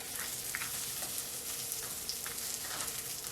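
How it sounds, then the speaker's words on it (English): Buffalo chickpea burger patties fry in oil with a dense, steady crackling sizzle and scattered pops, close but fairly quiet. "Just kind of move them around in that oil."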